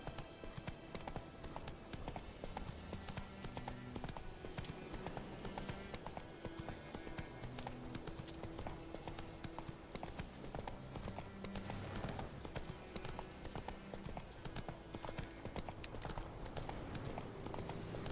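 Roach the horse galloping in The Witcher 3: Wild Hunt, a steady rapid rhythm of hoofbeats running the whole way under game music, close and continuous.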